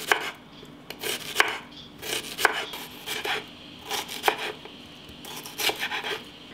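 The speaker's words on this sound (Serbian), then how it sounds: "sada ćemo 3 glavice crnog luka iseći isto na tanje šnitice" Knife slicing three onions into thin slices on a cutting board, about eight crisp chopping strokes in an uneven rhythm, close and clear with no talk.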